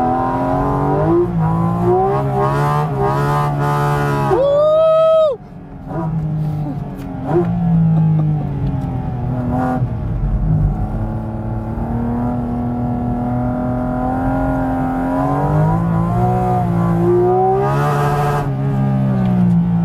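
The engine of a Porsche Cayman GT4 RS roars steadily under hard acceleration, with sharp revs climbing then dropping at gear changes, loud and close from inside the car.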